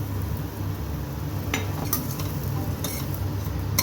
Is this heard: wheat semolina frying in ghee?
yes